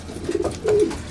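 Racing pigeons in the hen section of a loft give soft, low cooing, two short warbling coos close by over a faint background hum.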